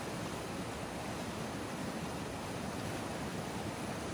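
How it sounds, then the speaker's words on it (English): Angel Falls at Big South Fork gives a steady, dense rush of falling water. The roar is continuous and even, fairly close, and no voices are present. "The Angel Falls are not as glamorous as the Twin Falls, but they are still beautiful and peaceful in their own way."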